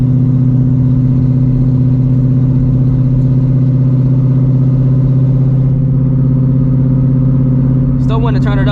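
A 900hp Shelby GT350 engine drones steadily and loudly from inside the car while driving, a strong low hum holding constant, with a brief clatter near the end.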